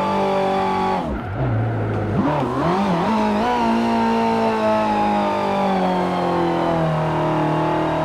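A 1995 Nissan GT-R races on the Nordschleife in Forza Motorsport 7, its engine revving hard. Pitch dips and climbs sharply through the gear changes, then settles into a long, loud, steady rising whine alone.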